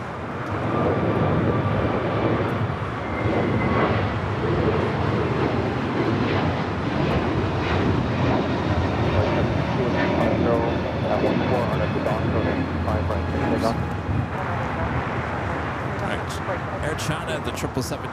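A KLM jet airliner taxis at LAX, its engines giving a steady, moderately distant rumble and whine that holds throughout, with a voice talking over it.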